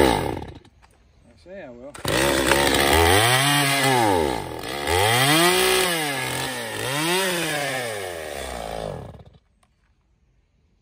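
A chainsaw trims a thin sliver off a firewood slab cut from noodle offcuts, its engine revving up and down in repeated swells over several seconds before cutting off, loud and close; someone says a few words before it starts.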